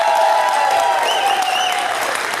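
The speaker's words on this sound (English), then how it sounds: "Another round of applause for Nicole Viva" Loud, close applause with some cheering from a convention crowd after an improv comedy game, heavy clapping throughout while a voice sings or calls out over it.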